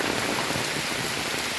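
Heavy monsoon rain pours steadily in Rajapur, Konkan, a dense unbroken hiss of drops beating on surfaces with no pauses or voices.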